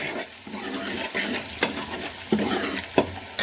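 Coloured bell peppers frying in a pan, being stirred for a turnip curry: a soft continuous sizzle with a few sharp spatula scrapes and knocks against the pan, close and alone.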